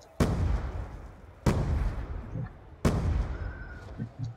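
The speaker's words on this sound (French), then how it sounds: "Je te lance des grenades." Grenade explosions in the zombie-mode shooter Black Ops 2: three loud, booming blasts spaced about a second and a half apart, each with a rumbling decay, and faint voices between them.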